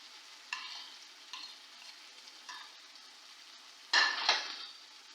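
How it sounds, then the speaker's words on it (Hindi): Tomato masala with green chillies frying and being stirred in oil, a soft steady sizzle broken by a few scraping stirs and a louder clatter of the spoon near the end, no talk. "इसी ऑयल के अंदर इसकी और भुनाई करूँगी"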